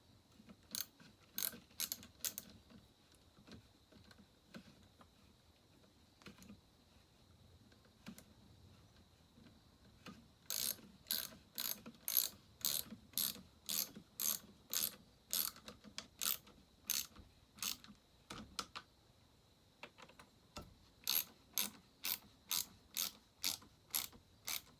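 Bursts of sharp rapid ratcheting clicks from a wrench tightening the intake gasket bolts on a McCulloch 7-10 chainsaw, in quick regular strokes with short pauses between runs, close and clear in a quiet room.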